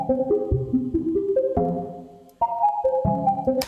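Looped melodic sample for a hard trap beat, a short repeating pattern of plucked or keyed synth notes shifting pitch in steps, clean and close, with no talk.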